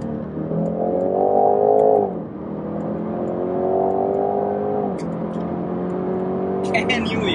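A Jaguar F-Type P300 engine revs in rising and falling sweeps as it downshifts via paddles through third to second, sharp throttle blips between shifts, loud and close.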